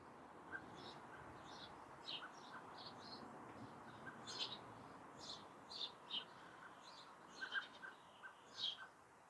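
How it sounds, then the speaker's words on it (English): Blackbirds call from near a summer house in a garden, with faint, scattered, high chirps and short calls repeating over a steady outdoor hiss; no one speaks. "There's some blackbirds over by the summer house."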